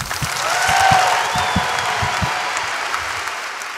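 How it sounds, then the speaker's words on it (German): An audience at a stand-up comedy show claps enthusiastically, a dense and loud burst of applause that swells early and then holds steady, with a few sharp individual claps standing out. "Geben Sie mir einen riesen Applaus"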